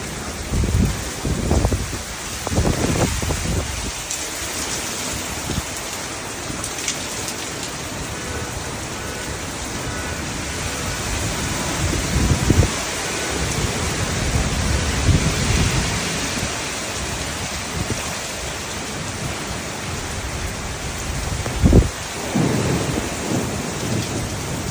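A violent storm in Delhi roars steadily, with strong gusting wind and heavy rain hissing throughout and several deep thunder rumbles rolling in, one louder crack near the end.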